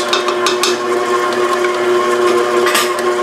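Herbed cracker dough with milk, onions and herbs is mixed by machine, giving a steady, loud, continuous whirring hum with no pauses and no talk.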